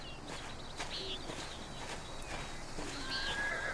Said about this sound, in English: Miklaus, tend to the horses and the baggage